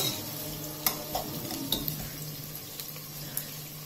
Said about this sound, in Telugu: ఈ లోపల ఈ ఉల్లిపాయలు కూడా వేగుతున్నాయి